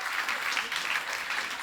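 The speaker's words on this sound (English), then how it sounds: "Big applause to you." A short burst of audience applause at a challenge finals event, many hands clapping together in an even, moderately loud patter.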